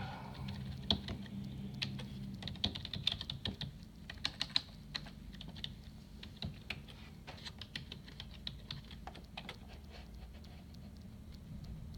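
Fast typing on a computer keyboard, with rapid irregular key clicks and taps running continuously over a quiet room hum and no talking.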